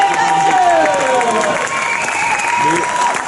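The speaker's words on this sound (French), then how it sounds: "les écuyers, on les applaudit bien fort" Applause from an audience at an outdoor knights versus barbarians show in Angers, steady and dense for the whole stretch, with cheering and voices mixed into the clapping.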